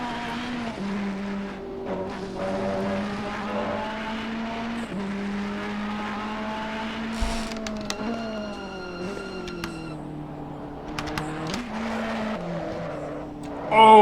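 Race car engines in Assetto Corsa Competizione at Bathurst, a red Ferrari chasing a Bentley in qualifying: a loud, sustained engine drone rising and falling through gear changes, with brief tyre noise and light commentary underneath.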